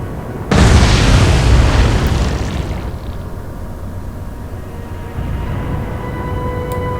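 Torpedo explosions in the naval combat game Atlantic Fleet: a loud, deep boom bursts in abruptly and rumbles for a couple of seconds, then fades into a sustained low roar of sea and battle ambience, with no voices.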